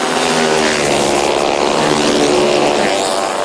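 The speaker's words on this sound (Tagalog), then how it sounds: "Nang siguradong clear na ang kalsada, kanya-kanyang harurot na ang mga racer." Several motorcycles roar off together in an illegal street race on a city road in Manila, a loud, continuous engine drone with rising and falling revving tones close by.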